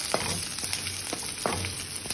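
Onions fry in a pan with a steady sizzle and crackle, punctuated by a few scraping stirs, fairly close and quiet with no voices.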